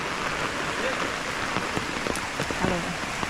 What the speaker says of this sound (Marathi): पाऊस चालूच आहे अजून